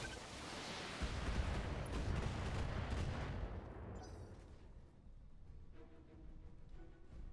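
Mech weapons from several systems firing at once at a Yagermech in the BattleTech video game, a dense barrage of heavy booms and crackling impacts that rolls on loudly and then thins into scattered fainter blasts.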